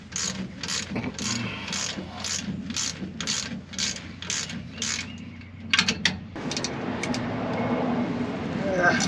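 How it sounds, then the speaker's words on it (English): A hand ratchet clicks in a quick series of sharp, regular pawl ticks while loosening bolts on a Ford F150 rear differential, then metallic clanks and rustling as the tool is worked close up. "So I broke them loose with the ratchet."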